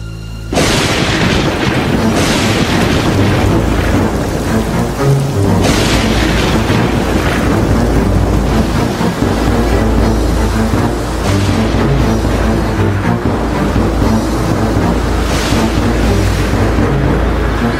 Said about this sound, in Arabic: رعد وبرق ومطر